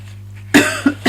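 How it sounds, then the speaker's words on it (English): A person coughs close to the microphone, a sharp burst followed by two shorter coughs in quick succession over a low steady hum. "I'm still sort of coughing a little bit"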